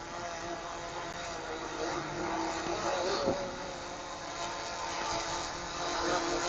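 Small camera drone descending over a neighborhood on a windy day, a steady buzzing propeller whine held at moderate distance throughout, with wind noise and faint talk underneath.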